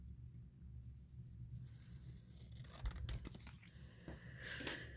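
Scissors trimming a paper envelope for a junk journal ephemera holder, a few close, crisp snips and cuts over a low steady room rumble, with no talking.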